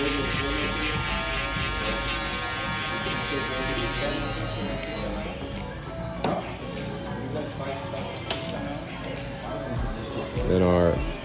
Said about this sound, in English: Go with our shaver.